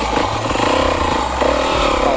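An enduro motorcycle's engine revs hard through a short wheelie, a loud, close, rasping drone that rises and holds steady.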